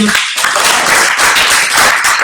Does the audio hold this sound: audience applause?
yes